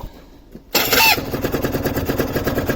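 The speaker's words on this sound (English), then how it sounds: "And we'll start her up." A 2003 Aprilia RS 125 motorcycle engine, started from cold, cranks and catches after a brief quiet moment, then settles into a steady, close, pulsing idle.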